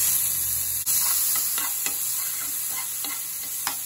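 Tomatoes frying with cooked onions and ginger-garlic paste in a pan for chole chaat, a steady close sizzle with faint scraping stir strokes recurring through it.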